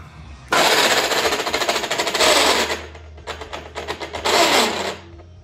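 A machine turns an aluminum wheel rim at 200 RPM for repair. Loud, rapid mechanical chattering comes in rough bursts with brief lulls between them, close by and with no speech.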